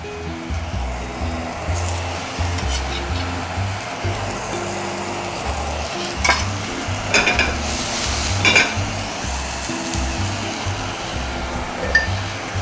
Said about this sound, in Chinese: 爆香紅葱頭碎。